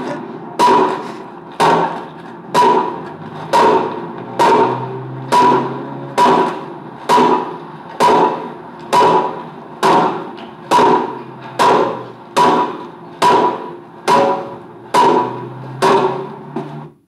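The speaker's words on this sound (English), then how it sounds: "let's get the sledgehammer on it" A sledgehammer hits a light fitting in about fifteen heavy, evenly spaced blows, each one a sharp, loud impact with a short ringing tail, and no talking between them.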